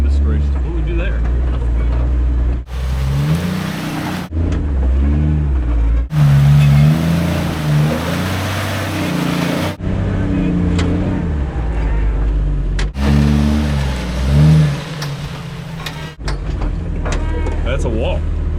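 A car engine drones and revs in repeated surges during off-road driving practice, loud and close, with people talking over it throughout.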